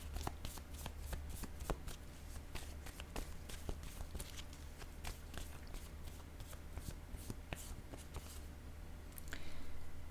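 Tarot cards are shuffled and drawn by hand, close up and quiet, with a rapid run of crisp flicks and riffles. A soft rustle rises at the very end.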